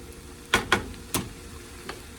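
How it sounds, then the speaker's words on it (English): A spoon scrapes and knocks through food in a pan on low heat, a few distinct clanks at a steady, unhurried rhythm over a soft background sizzle, close and alone. "I'm gonna go ahead and stir this up"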